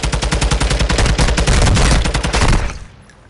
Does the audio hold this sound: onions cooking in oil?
no